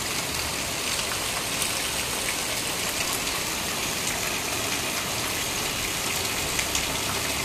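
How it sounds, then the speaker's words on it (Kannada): Heavy monsoon rain pouring steadily, a dense, even roar of rainfall that holds at constant loudness throughout with no voices. "ಎರಡು ದಿವಸದ ನಂತರ ಮತ್ತೆ ಇವತ್ತು ಜೋರು ಮಳೆ."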